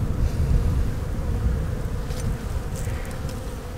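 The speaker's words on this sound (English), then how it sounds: "Some good looking fuzzy bees right there" Dense, steady buzzing of many honey bees close by in an active hive colony in late January, a continuous droning hum with no voices.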